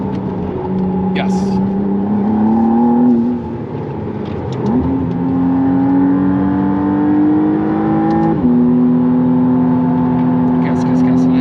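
McLaren Artura engine accelerating on a test drive, a loud close revving drone that climbs in pitch with shifts around the third, fifth and eighth seconds, while people talk over it inside the car.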